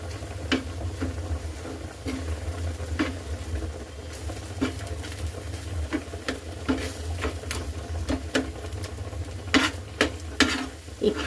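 A ground spice paste with cumin powder, oil, black pepper and nigella seeds sautés in a pan, a low soft sizzle broken by regular scraping stir strokes.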